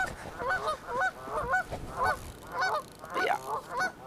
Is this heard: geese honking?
yes